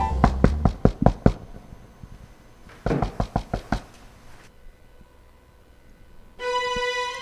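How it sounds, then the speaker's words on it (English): Knocking on a door: a quick run of six or seven loud raps, a pause, then a second burst of similar raps, followed by quiet and a sustained tonal hum. "I heard a knock at the door."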